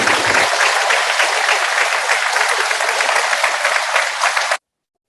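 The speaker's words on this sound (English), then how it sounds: "Let's give Bodie a big round of applause" Loud, dense applause from a school assembly audience, steady clapping for several seconds before cutting off abruptly, with no talk over it.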